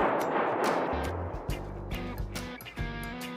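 Close gunshots crack in a PvP video game, a quick run of sharp reports with a brief burst of rapid fire, loud against a noisy backdrop.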